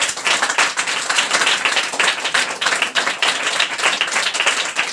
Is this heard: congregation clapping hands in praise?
yes